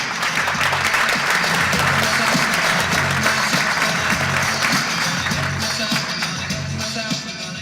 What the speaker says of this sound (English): Everybody give a hand to Juan Benito with Joosy.